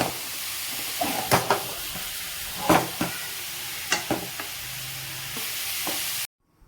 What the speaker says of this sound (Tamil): கேரட்டை உள்ளே போட்டு கொஞ்சம் நெய்யில் வதக்கி விடலாம்